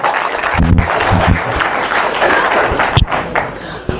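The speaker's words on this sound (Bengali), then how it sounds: "নোভেরাসের জন্য একটা জোরে হাততালি দেন না।" An audience claps loudly at a live product-promotion event for a health supplement, a dense, steady wash of applause filling the room for about four seconds with a few heavier claps near the start.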